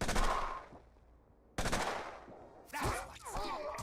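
Gunfire from a twitch shot in the video game Mutant Year Zero, with sharp loud bursts opening the moment and recurring later, followed by busy, layered game effects.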